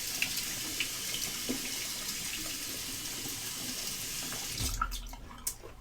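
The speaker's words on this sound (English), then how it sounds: "Just going to soak it under the hot water." Hot tap water runs steadily over a black synthetic shaving brush under a faucet, a constant splashing hiss that ends with a brief shake and a few drips, with no talk.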